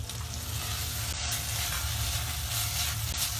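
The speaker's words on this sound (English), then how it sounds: "now I'm going to put the tomato" Tomato hits hot oil in a pan while dal is being made and crackles with a steady, loud, dense sizzle as it is stirred, continuing without a break.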